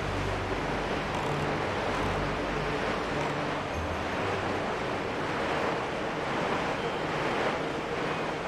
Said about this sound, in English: I forgot how loud that water was.